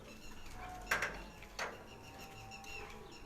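Pigeons on a rooftop in Kharian give soft, faint coos and a few brief flutters against a quiet, hissy background.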